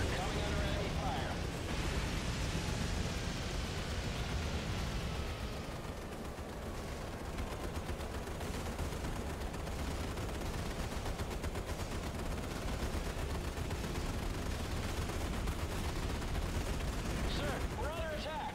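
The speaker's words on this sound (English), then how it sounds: "We are coming under enemy fire." Naval battle gunfire and explosions from the video game Battlestations Midway form a dense, continuous barrage of bursts and booms, with a whistling shell sweeping down early on and no clear speech.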